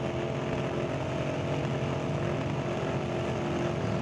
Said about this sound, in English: That sounded like about a double step